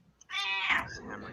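A Siamese cat gives a single drawn-out, demanding meow close by, asking for soft food, rising and then trailing off into faint room noise.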